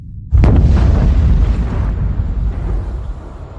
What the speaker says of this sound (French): En cas d'explosion nucléaire à Nogent-sur-Seine,